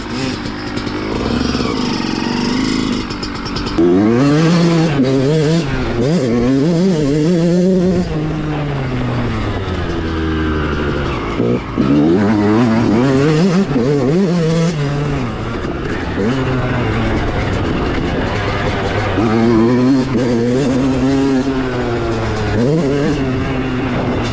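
Yamaha YZ 125 two-stroke motocross bike revving hard on a small dirt track, its engine note rising and falling continuously through repeated throttle blips, loud and close for the whole stretch.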